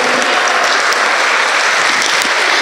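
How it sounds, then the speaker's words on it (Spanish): An audience at a breast cancer health talk gives loud, sustained applause to welcome a doctor, a dense, even wash of many clapping hands without pause for nearly three seconds. "Recibamos con un fuerte aplauso, por favor, a la doctora María Rocío Jiménez Moreno."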